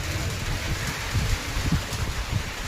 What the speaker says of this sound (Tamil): இன்னைக்கு மழை பெய்கிறது, காற்றும் ஜில்லுன்னு அடிக்குது